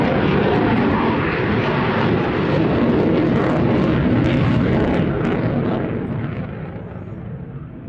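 A Boeing F-15 fighter jet roars past at an air show display, a loud, continuous broadband jet rumble that eases and fades slightly toward the end.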